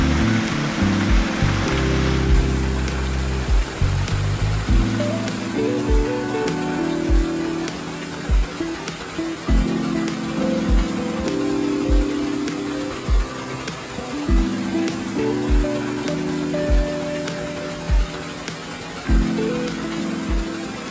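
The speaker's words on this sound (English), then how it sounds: "Here's the waterfall," A waterfall in a small secluded spot pours steadily, its broad rushing roar constant and close, with a few low thumps and no voices.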